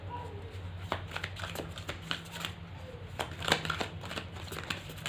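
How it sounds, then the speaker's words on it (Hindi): Tarot cards are shuffled by hand in a quick run of soft papery riffles and taps, close and fairly quiet, with someone speaking Hindi over them. "बट मैं शफल करती हूँ"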